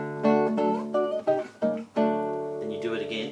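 A classical guitar plays a chord sequence from Albéniz's Sevilla: a run of plucked chords in quick succession, each ringing briefly, then a longer sustained chord with a light flourish at the end.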